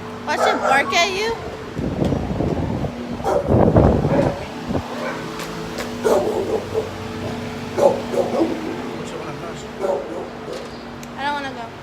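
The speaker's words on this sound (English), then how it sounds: "Watch it bark at you?" A dog barks in short, loud bursts close by during a visit to an animal adoption shelter, mixed with wind buffeting the microphone and people talking over it.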